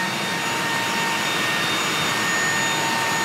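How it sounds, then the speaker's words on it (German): Steady broadband whine and roar around a parked MD-11F freighter during an outside walk-around check, flaps retracting with hydraulic power on, constant and fairly loud throughout with no voices. "Jawohl, die Klappen fahren ein, die Hydraulik ist drauf."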